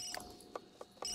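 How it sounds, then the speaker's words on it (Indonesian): A telephone in The Sims 3 rings softly in a few short trilling bursts, faint and repeated at roughly even intervals. "Oke, ada telepon."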